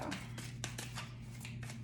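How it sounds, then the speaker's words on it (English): A deck of tarot cards being shuffled by hand, giving a run of soft, evenly spaced riffling bursts over a steady low hum, close and fairly quiet. "each deck I have to figure out the best way to shuffle"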